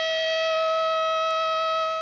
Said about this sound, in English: It goes off with an alert or a siren that will activate for about 5 seconds to get your attention.